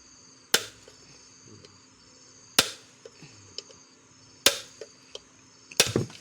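A hammer knocks a fan blade loose in a repair setting. There are four sharp, ringing metallic strikes spaced a couple of seconds apart, with lighter taps and clinks between them and no talk.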